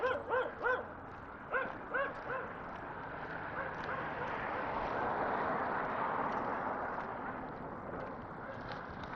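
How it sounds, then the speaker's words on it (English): A dog barks at a passerby on a residential street on a damp morning, several sharp barks in quick bursts near the start, then a steady outdoor wash of wet street noise. "I have been recognized by a dog"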